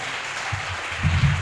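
Brief applause from an audience acclaiming the king of kings, a steady wash of clapping with a few louder bursts toward the end, no voices over it.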